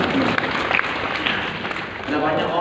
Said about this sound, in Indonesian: Boleh tepuk tangan yang paling baik.